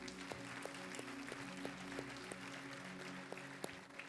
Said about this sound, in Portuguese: Você pode aplaudir o nome dEle